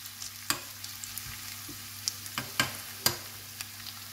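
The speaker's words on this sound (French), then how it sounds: "On fait cuire la galette correctement en dessous." Potato galette for a potato-cheddar frittata cooking in a pan, a low, steady sizzle broken by a handful of sharp clicks and scrapes of a utensil against the pan, quiet and close.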